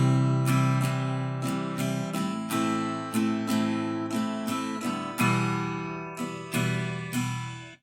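A guitar strums through three basic open chords in a steady rhythm, each downstroke ringing full and close with no voices over it.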